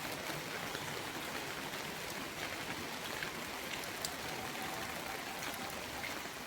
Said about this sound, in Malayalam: മഴ ഇങ്ങനെ പെയ്യുമ്പോൾ നല്ല ഭംഗിയില്ലേ കാണാൻ.